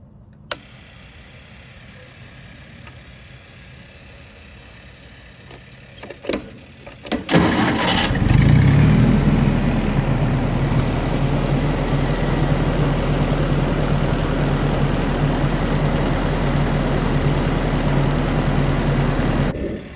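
A $75 army generator with a freshly adjusted carburetor cranks with a few rough attempts, then catches and settles into a loud, steady engine drone that runs on for over ten seconds without pause.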